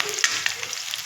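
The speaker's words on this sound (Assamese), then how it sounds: "লগত পিঁয়াজখিনি গোল্ডেন কালাৰ ভজা হ'লে জিৰাখিনি ভাজি ল'ম" Cumin frying in mustard oil alongside golden onions in a kadai hisses with a steady, close sizzle, small pops crackling through the continuous spitting of hot oil.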